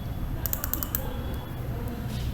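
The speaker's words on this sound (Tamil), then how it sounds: "ஸோ இது மாதிரி டைப் பண்ணிட்டேன்" Keystrokes on a computer keyboard during AutoCAD drafting, a quick burst of about half a dozen clicks followed by a few scattered taps over steady low room hum.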